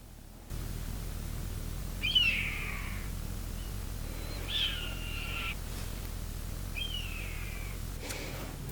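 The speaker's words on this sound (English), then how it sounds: "There's 3 big hawks up there. You can hear them screaming." Three big hawks give several high, drawn-out screams one after another from a distance over a steady low outdoor hum.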